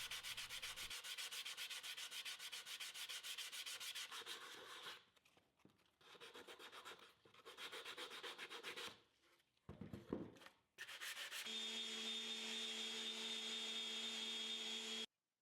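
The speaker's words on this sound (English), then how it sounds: "And then hand sand all the edges with a 220 grit pad." Wooden display edges get hand-sanded with a 220 grit pad: rapid back-and-forth rubbing strokes, close and steady, broken by brief pauses before a final continuous pass.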